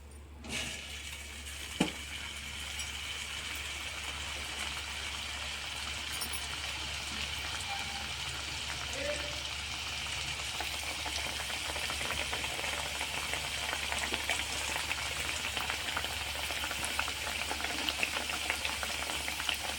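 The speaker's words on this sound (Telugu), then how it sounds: "ఒక్కొక్కటిగా ఇలా వేయించుకోవాలి." Sweet pieces made from wheat flour frying in hot oil in a pan, giving a steady, even sizzle and bubbling that continues throughout, with one brief clink near the start.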